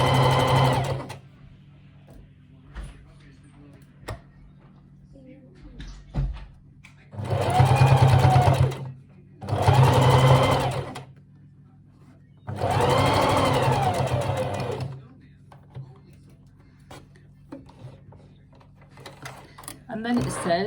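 A sewing machine stitching a seam in a wool coat, running in three loud, close bursts of steady whirring and needle clatter separated by quiet pauses with small handling noises.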